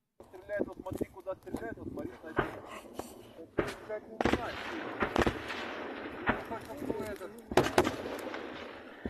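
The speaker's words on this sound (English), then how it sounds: "we're hearing a lot of return fire" Return gunfire from Ukrainian troops in trench lines, sharp cracks and heavier thumps scattered irregularly, some in quick clusters, under someone talking over the recording.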